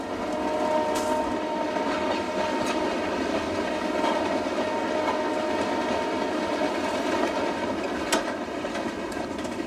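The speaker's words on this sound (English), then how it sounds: "I had traveled south, then west, and caught another train." A passenger train travels north through wintry Canada toward Churchill, rolling with a steady rumble and rail clatter throughout, tonal horn-like drones sustained underneath and brief sharper clanks near the start and end.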